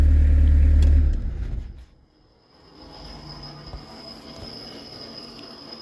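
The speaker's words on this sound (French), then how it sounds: "Donc là ce que tu entends c'est le turbo." A loud diesel engine in a Peugeot 205 turbo diesel cuts off, leaving a thin high-pitched whine that fades and lingers as the turbo spins down, with faint mechanical ticking beneath.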